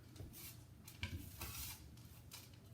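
Toasted oats get stirred in a pan for granola, soft scraping and rustling with faint sizzle and a light clink of a utensil, quiet and close.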